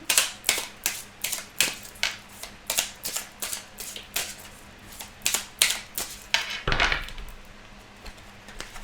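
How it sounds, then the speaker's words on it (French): Tarot cards being shuffled and laid down during a reading: a steady run of crisp, close card snaps and flicks, about two per second, with a fuller riffle near the end and no voices. "on va tirer quelques cartes pour voir ce qui ressort pour vous"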